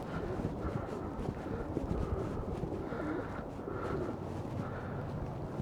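Soft pigeon coos repeat over a busy outdoor background of rumbling noise in Stratford-upon-Avon, fairly faint and low, with no talking.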